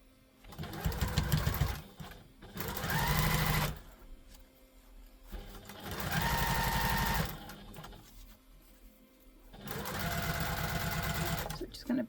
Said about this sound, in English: we're just going to stitch down again with the small seam allowance